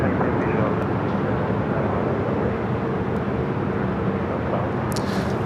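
Airplane roaring on takeoff from runway 24 left at LAX, a broad steady rumble with a distant engine drone throughout and a brief higher squeak near the end.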